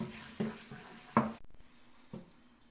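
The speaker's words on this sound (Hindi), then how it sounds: "अब हम इसको तकरीबन 5 मिनट तक और भूनेंगे" Bhujiya sabji stirred as it fries in a pan: a few distinct scraping strokes of a spoon with a soft sizzle underneath, spaced about a second apart, then a quieter tail.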